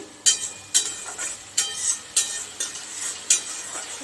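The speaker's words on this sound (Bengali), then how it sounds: "কষে যতক্ষণ না তেল বেরিয়ে আসছে ততক্ষণ এরকমভাবে কষতে হবে।" Masala stir-fried in oil in a pan for soybean kofta curry, with rhythmic spatula strokes scraping through the sizzling paste about every half second, close and distinct with no talk.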